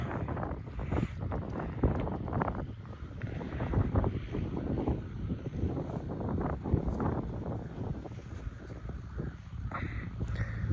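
Steady wind buffets the microphone throughout over a field just sown with sunflower, a constant low rumbling roar with gusty surges.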